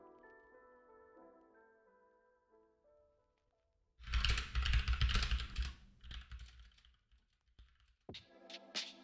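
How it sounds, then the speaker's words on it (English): Rapid keystrokes clatter on a computer keyboard, loud and close, in dense bursts after a quiet tonal passage, with a short pause before a final flurry. "I know I'm typing this in words"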